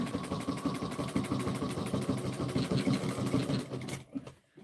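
Sewing machine stitching steadily and close, a fast even mechanical chatter that runs continuously, then stops abruptly near the end.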